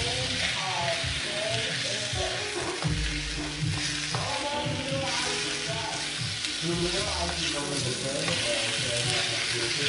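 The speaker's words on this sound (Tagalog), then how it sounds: "Igisa ko muna ito ng gusto yung radish." Radish sautés in a hot pan for a pork-with-radish dish, a loud, continuous sizzle broken by scraping stirs and clinks, with a voice talking over it.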